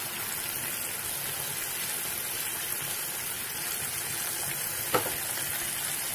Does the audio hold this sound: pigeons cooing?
no